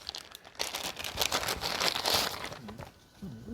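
A plastic bag crinkles and rustles up close as a rapid-release smoke grenade is pulled out of it, a steady papery crackle lasting a few seconds with no talking.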